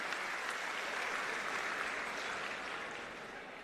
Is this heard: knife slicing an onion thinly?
no